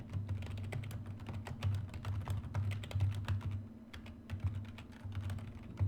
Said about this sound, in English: now I can type a whole word or a whole sentence